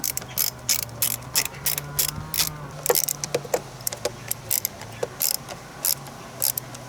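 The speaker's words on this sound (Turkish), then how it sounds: "Şimdi bu iki kelepçeyi 7 mm ile sıkıyorum." A ratchet with a 7 mm socket tightens two hose clamps on a car's air intake during MAF sensor cleaning, giving rapid, close clicking in quick bursts with brief pauses between.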